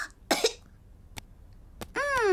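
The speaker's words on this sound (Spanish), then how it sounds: "Después tose." A cartoon pig character coughs during a doctor's check-up in a Spanish-dubbed children's cartoon: a couple of sharp coughs, then a lone throat-clearing sound, and a voice starts talking at the very end.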